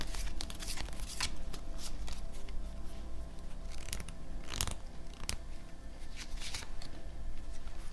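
Tarot cards are shuffled and drawn in a quiet, soothing setting, giving soft riffling brushes and sharp, scattered card snaps and taps close to the microphone.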